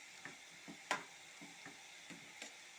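Jackfruit chips fry in oil on a stove, giving a faint, steady sizzle with soft intermittent crackles and pops.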